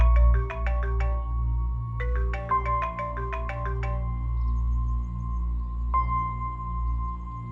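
A phone ringtone rings unanswered, short bursts of bright repeating tones in two rapid groups, then a sustained tone, over a low steady background hum in a domestic drama scene.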